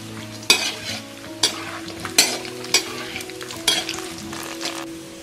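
Dry fruits and small pieces of dried date are roasted and stirred in a pan for laddoos. A steady soft sizzle runs beneath about six sharp, evenly spaced scrapes and clinks of the spoon against the pan, with no voices.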